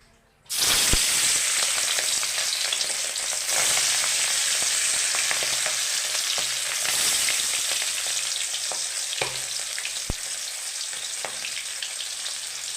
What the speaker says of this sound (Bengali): আমার এখানে তেলটা গরম হয়ে এসছে, আমি এবার মাছগুলো দিয়ে দিচ্ছি।